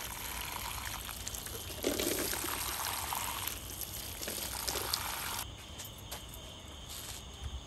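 Water poured from a container into soil-filled plastic bottles in a vertical lettuce garden, a soft, faint splashing trickle that swells and fades in short bursts over quiet outdoor background noise with a high insect-like whine.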